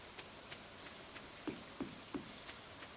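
Gentle rain in the Stardew Valley video game, a soft steady hiss with a few light drip-like ticks, faint and without voices.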